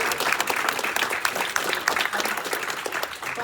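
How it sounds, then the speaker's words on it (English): Hearty applause from a room of students at an app showcase awards presentation, many hands clapping quickly and densely, loud and close, holding steady with no talk over it. "So a big round of applause for Mr."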